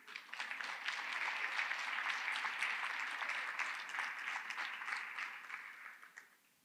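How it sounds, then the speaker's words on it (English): An audience at an early literacy coaching institute applauds, a steady burst of clapping that swells quickly, holds for several seconds and fades out at the end, with no talk over it. "Just take a minute, give yourselves a round of applause."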